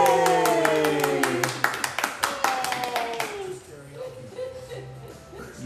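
A child and adults clap their hands together in a quick run of sharp claps over about three seconds, mixed with cheerful voices and a sung or drawn-out vocal tone, then fading to quieter talk.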